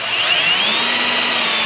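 A power drill boring a mounting hole on a 2018 Sea-Doo RXT-X, a continuous high-pitched whine whose pitch rises slightly, close and loud, with no voices.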